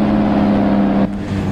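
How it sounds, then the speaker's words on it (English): In American Truck Simulator, a Peterbilt 350 logging truck's engine drones loud and high near redline, then abruptly drops in pitch as it shifts, with no talk. "It's revving that engine up pretty darn high anyway"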